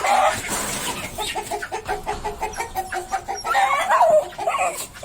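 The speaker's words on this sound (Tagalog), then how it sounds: "Ito na yung mga manok Oh." A flock of farm chickens with chicks clucks and squawks close by in an irregular, busy stream of calls, with brief louder bursts and no voices.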